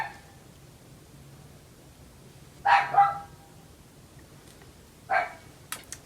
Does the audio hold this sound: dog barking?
yes